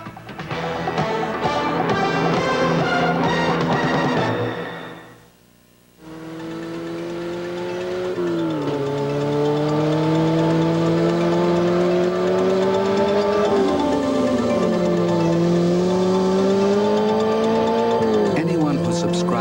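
A Porsche sports car accelerates hard. Its engine note climbs and drops through repeated gear changes, loud and close, after a brief lull following some other busy sound.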